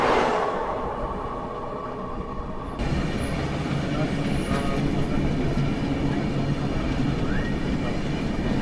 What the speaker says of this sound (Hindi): जम्मू तवी बाड़मेर शालीमार मलानी एक्सप्रेस। ये जम्मू तवी से बाड़मेर के बीच में चलती है।